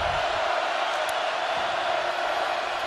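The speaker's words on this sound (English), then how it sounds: "Crowd loud on third and 12." A football stadium crowd at a Florida versus Miami college game roars on third down, a loud continuous wash of cheering and noise that holds steady without breaks.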